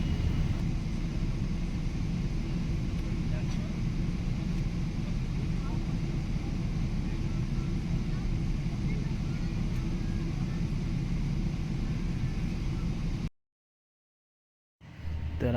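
A constant low engine drone fills the airplane cabin in flight from Hamburg, Germany, steady and heavy, briefly dropping to silence near the end before returning.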